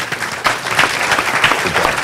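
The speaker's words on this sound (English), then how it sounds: "Let's give them a round of applause." Loud, dense audience applause following an Attorney General candidates' debate, steady clapping from a crowd that swells briefly after a short dip.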